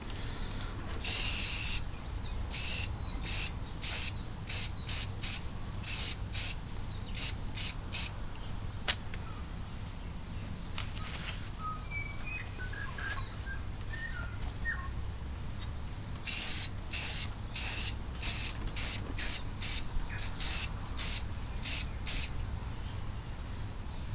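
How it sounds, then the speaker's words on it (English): Rust converter hisses from a spray bottle onto a rusty Barford Atom plow in short, sharp squirts. The bursts come in two quick series with a quieter stretch between them, close and loud over faint outdoor background. "First step's the rust converter, so just give it a quick squirt with that"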